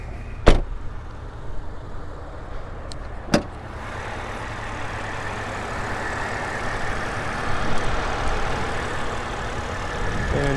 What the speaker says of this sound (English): here we've got our engine idling away, super quiet